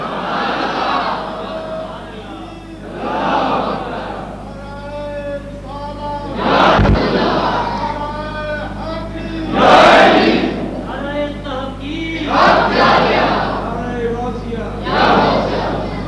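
Large crowd at a religious gathering shouting slogans in unison, repeated loud surging call-and-response bursts separated by short pauses, echoing over a hall PA.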